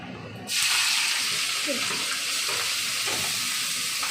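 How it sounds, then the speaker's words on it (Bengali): Dry red chillies hit hot oil with a sudden loud sizzle that settles into steady crackling frying, close up in a home kitchen. "শুকনো লঙ্কাটা একটু ভাজা ভাজা।"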